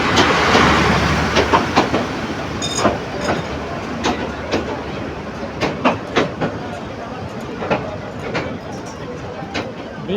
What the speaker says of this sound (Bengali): কুড়িগ্রাম এক্সপ্রেস এটা